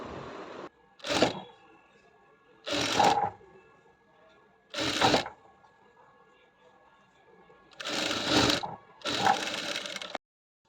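Sewing machine stitching a bias strip around a U-shaped neckline, running in five short bursts of roughly half a second to a second each, separated by quiet pauses, close and clear with no talking.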